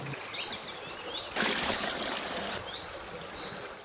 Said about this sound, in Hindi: गोरी ने उस पर पानी फेंका।